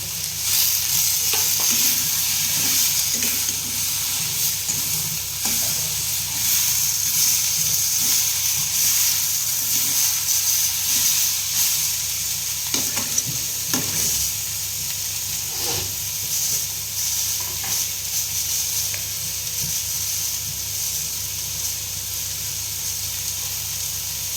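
Tomatoes going into a hot pan for crab curry give a continuous loud sizzle and hiss that holds steady throughout, with faint scattered clinks and no talking.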